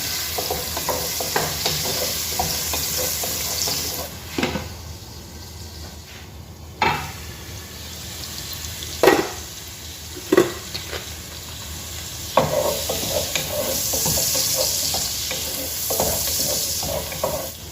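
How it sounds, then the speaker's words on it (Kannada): Curry leaves, mustard seeds and onion fry in hot coconut oil, making a continuous close sizzle broken by several sharp spatula scrapes and clacks against the pan as the mix is stirred. No one speaks. "ತೆಂಗಿನೆಣ್ಣೆ ಬಿಸಿಯಾದ ನಂತರ ಕರಿಬೇವಿನ ಸೊಪ್ಪನ್ನು ಸೇರಿಸ್ತಿದ್ದೇನೆ ಸ್ವಲ್ಪ ಸಾಸಿವೆ ಈರುಳ್ಳಿ ಸ್ವಲ್ಪ ಫ್ರೈ ಮಾಡ್ಕೋಬೇಕು"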